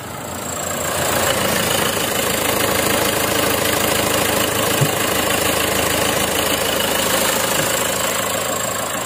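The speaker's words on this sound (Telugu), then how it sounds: "సింగిల్ సెల్ఫ్లో అయితే కార్ స్టార్ట్ అవుతుంది" A 2013 Nissan Sunny XV car engine idles steadily close by, a continuous mid-pitched hum with a faint mechanical ticking throughout and no talking.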